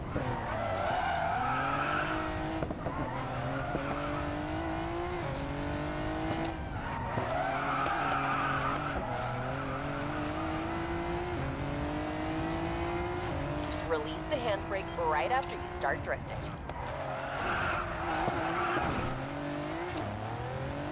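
Car tires skidding and squealing while cornering in a racing video game, with revving engine notes rising and falling in repeated bursts, and someone talking over it.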